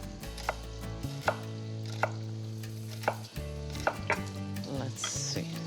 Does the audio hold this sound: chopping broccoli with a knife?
yes